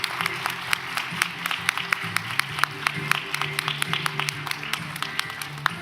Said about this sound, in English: please welcome His Excellency Vice President Lai Ching-te with a warm round of applause.